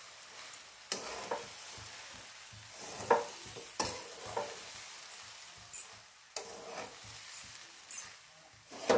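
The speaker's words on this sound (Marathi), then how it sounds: "आता हा परतून घेऊ चांगलं मस्त परतून घ्यायचं आहे" Crumbled bajra bhakri being stir-fried in a pan at home, with soft scraping and stirring strokes at an irregular rhythm over a faint, steady sizzle.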